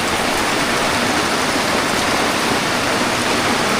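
Moderate evening rain pours outdoors on a farm, a dense, even hiss that stays constant and fairly loud from start to finish, with no voices.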